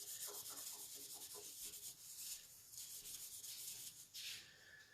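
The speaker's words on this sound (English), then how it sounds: "give it a good work over with the embossing buddy" An anti-static embossing buddy pouch rubbed firmly over gold-embossed paper, giving a steady dry scrubbing and swishing texture with quick repeated strokes, close and fairly quiet, with no talking.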